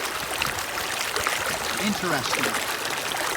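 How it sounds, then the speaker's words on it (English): Stegman Creek flowing steadily outdoors, a continuous broad wash of trickling water beneath a person speaking briefly. "as I sit here by Stegman Creek, I can hear the sounds of the creek"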